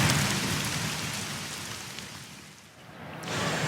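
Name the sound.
rain falling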